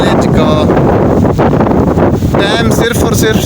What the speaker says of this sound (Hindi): इतनी तेज़ आंधी आ रही है, मौसम मोबाइल नहीं पकड़ा जाता, तेज़ हवा है